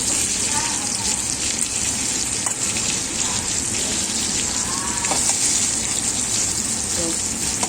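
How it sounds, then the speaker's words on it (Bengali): Potato pieces for a mutton curry sizzle steadily in hot oil in a home kitchen, a constant crackling hiss with faint voices and occasional utensil clicks underneath. "এই যে মাটনের আলুটা ভাজছি আর কি"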